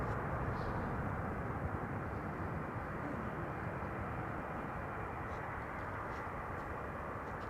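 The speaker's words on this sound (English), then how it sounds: "KLM A321neo is next to arrive. Flight 1602 arriving from Rome." A KLM Airbus A321neo arrives at Amsterdam Schiphol on a sunny day, its engines giving a steady, broad roar that holds evenly throughout with no break.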